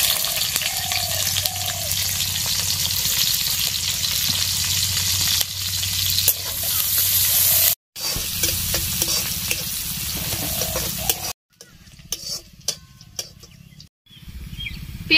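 One onion and four green chillies fry in hot mustard oil for chicken ghugni, giving a loud, close, steady sizzle with scraping stirs. It breaks off briefly twice, then returns in choppier bursts.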